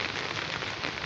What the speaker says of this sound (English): you should be very careful of this rain